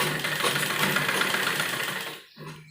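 An electric sewing machine runs in a steady, continuous mechanical whir while stitching the sleeve of a lined embroidered kurti, then cuts off near the end, leaving a short low hum.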